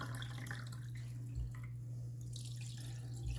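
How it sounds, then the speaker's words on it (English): Soup being poured into an emptied soup can in a kitchen makes faint liquid trickles and drips over a steady low electrical hum. "I'm going to pour some of this in the soup can so that I can get some more of the soup out of there."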